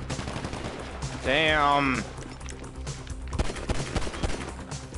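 Rapid assault rifle fire in the video game GTA 5 rattles out in bursts amid other game sounds, loud and close, while players talk briefly over the action.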